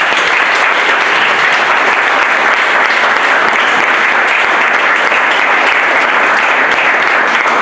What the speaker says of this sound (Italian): e farò parlare Mario Rossi in arte Mario, un applauso.